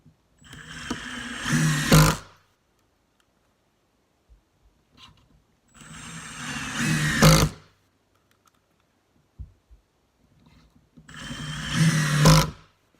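Milwaukee Fuel brushless cordless power tool running in a speed test: three separate bursts of high-pitched motor whine, each about two seconds long and rising in loudness before cutting off. Faint handling clicks sound in the pauses between them.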